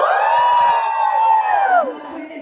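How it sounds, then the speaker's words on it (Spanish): A group of children shout loudly together in one sustained, high-pitched cry lasting about two seconds, close and dominant, then trailing off into softer crowd noise. "Ahora quiero escuchar un grito fuerte con los niños y niñas con Dewey."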